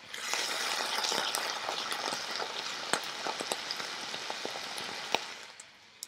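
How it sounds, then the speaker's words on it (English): Steady crackling sizzle of frying bacon, recorded as a foley sound, close and continuous, with scattered sharp pops and spatters throughout. "we're going to be frying some bacon"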